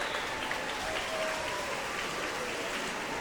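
A steady wash of applause from a crowd at a bouldering championship final in Sheffield's city centre, continuous and even throughout with no distinct voices standing out.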